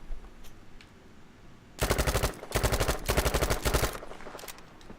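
A Thompson submachine gun fires in Battlefield V, tap-fired in short rapid bursts: several tight strings of crisp, loud shots separated by brief gaps, with a quieter lead-in and tail.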